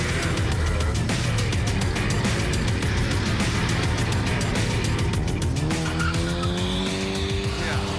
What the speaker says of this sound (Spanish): donde hay un montón de autos que pasan todo el tiempo